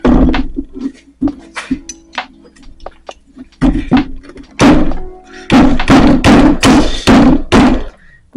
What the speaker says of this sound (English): I'm gonna grab my hammer